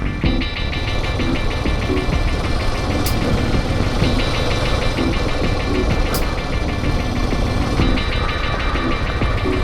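A loud, steady engine drone with a rough, pulsing low rumble from a Suzuki DR 800 S motorcycle decelerating on engine braking in second gear, sustained throughout without talk.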